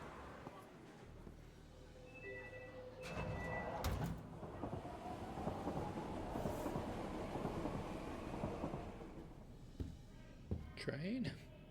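Train ambience inside the horror video game The Operator: a steady rumbling rolling drone with clanks and door-like thuds, moderately loud, while a person speaks quietly over it.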